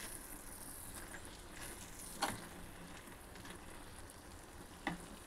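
Bitter gourd sizzles steadily as it fries in a pan, with a low continuous crackle and a couple of brief scraping stirs standing out.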